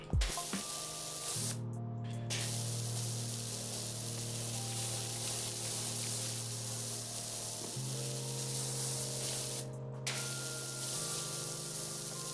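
Pressure washer in Power Wash Simulator 2 spraying water, a loud continuous hissing blast with a steady motor drone beneath, briefly cutting out twice as the trigger is released and pressed again.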